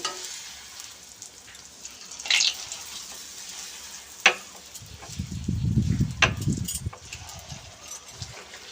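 Puchka (pani puri) puffing in hot oil and being stirred, with a low bubbling sizzle, a few sharp scrapes and clinks of the utensil against the pan, close by and moderately quiet.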